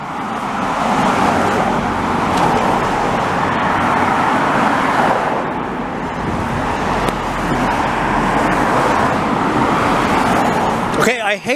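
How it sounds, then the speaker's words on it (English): A Honda Element passes along a city street in Montreal's Hampstead borough amid continuous roadway traffic, its tire and engine noise swelling and fading in a steady rumble, with a person talking throughout. "that Honda element that just went by"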